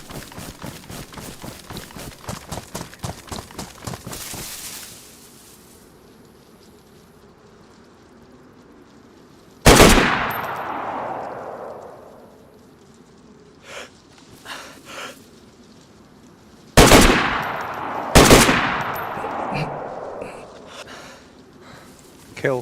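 A WW2-era gun fires full auto in the video game DayZ: a rapid rattling burst at the start, then loud single sharp reports with echoing tails spaced through the rest of the clip.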